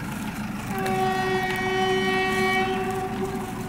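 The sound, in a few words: goods train passing near Bhiwandi station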